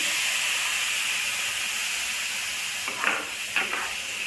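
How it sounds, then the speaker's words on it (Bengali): Semolina boils with a bowl of water in a pan, giving a steady, even hiss of bubbling, with a couple of soft stirring scrapes near the end. "এখন আমার সুজিগুলো বয়েল হয়ে যাবে"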